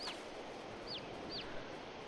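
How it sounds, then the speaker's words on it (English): Chickens and chicks in a coop in Farming Simulator 22 give three short, high chirping peeps spaced through a steady, fairly quiet background. "I'm right here just checking out on the chickens."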